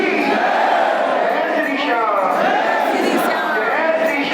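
Dense crowd at the Khatu Shyam temple fair, a loud continuous roar of many voices with shouting and chanting rising and falling up close.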